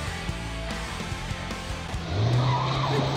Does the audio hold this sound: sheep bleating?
no